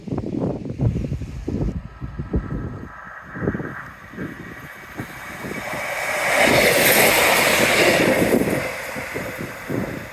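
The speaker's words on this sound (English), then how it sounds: "And in the distance, a train." Train passing in the distance along the seawall railway below Sprey Point at Teignmouth: a broad rushing swell builds midway and fades, under wind buffeting on the microphone and earlier handling noise, with no talk.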